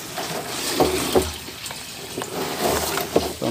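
Strong tap water pours into a container during termite-control preparation, a continuous splashing rush with small gurgling bursts as the vessel fills, fairly close and steady with no talk over it.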